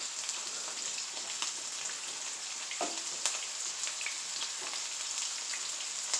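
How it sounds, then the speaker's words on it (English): Steak pieces frying in a pan, a soft, even, rain-like hiss of sizzling fat with a few faint clicks, fairly quiet and unbroken. "we've got a lot of steak to cook up here"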